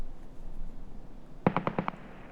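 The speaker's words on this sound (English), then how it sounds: "Someone naded me." A grenade blast in the shooter game Escape from Tarkov, heard as a quick burst of five sharp cracking pops in rapid succession after a second of low ambient rumble, moderately loud and with no voices.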